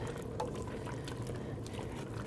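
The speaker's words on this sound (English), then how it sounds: "now I'm going to pour the tomatoes in" Canned tomatoes are poured into a pot of mulligatawny soup in a community library kitchen, a soft, steady wet pouring wash that runs continuously and fairly quietly for the whole moment, with no talking.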